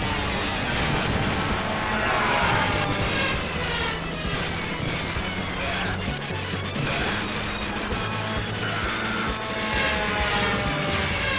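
Metal Slug arcade game action with aircraft engines droning and loud crashes and explosions, a dense, continuous wall of game sound throughout.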